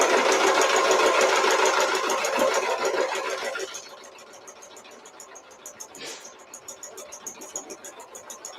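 A sewing machine runs steadily and fairly loud for about four seconds. The motor then drops to a softer, intermittent hum with light mechanical ticking.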